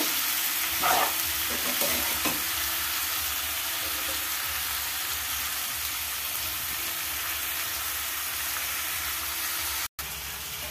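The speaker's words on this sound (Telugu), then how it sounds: "బాగా కలుపుకుని మూత పెట్టేసుకుందాం. వంకాయలు బాగా మగ్గ పెడదాం." Eggplant curry being stirred in a pan, a dense, continuous hiss of frying with a few spoon clinks early on, close and steady.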